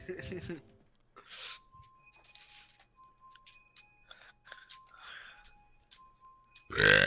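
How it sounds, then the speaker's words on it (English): A person's burp during a Mario Kart gaming session, a short rough belch among quiet clicks and game sounds, followed by a loud burst at the end. "Burping is natural."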